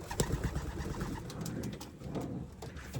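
Young racing pigeons coo softly and repeatedly, low throaty calls overlapping close by, with a few light rustles and no talking.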